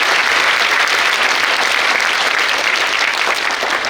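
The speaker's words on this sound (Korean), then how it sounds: "두 분을 위해서 다시 한번 감사의 힘찬 박수를 부탁드리겠습니다." A large audience at a school alumni talk concert gives loud, dense, sustained applause for two four-star general alumni, steady clapping filling the room throughout.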